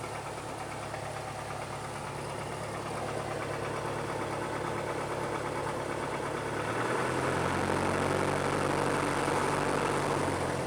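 Piper PA-28 light aircraft piston engine idling on the ground during throttle and brake checks, a steady rumbling drone that deepens and grows louder partway through as the throttle is eased up, heard alone without talk.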